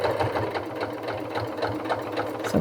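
Sewing machine running a seam on a holiday stocking, following the presser foot, with a continuous, close, rapid rhythmic whir and no talking.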